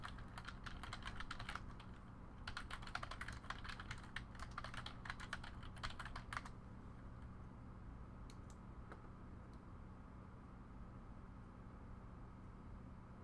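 Rapid clicking of computer keyboard typing in two quick bursts of keystrokes, faint and close, followed by a quieter stretch with a few isolated taps over a low background hum.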